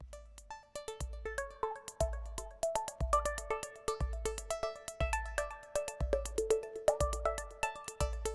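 A VCV Rack modular synth patch plays a steady sequenced pattern of plucky tones over regular kick-like thumps, with reverb and delay smearing each note into echoing tails, loud and continuous throughout.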